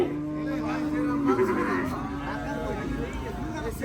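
Cattle low at a busy cattle market, with a long, tonal moo rising above steady crowd chatter and people talking throughout.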